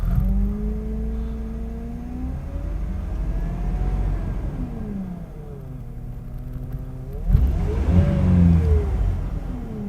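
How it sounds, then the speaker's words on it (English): A 2001 car engine revs up and down several times as gas is given during diagnostic testing, rising and falling pitch sweeps with a sharper, louder rev near the end. "We give it a little more gas."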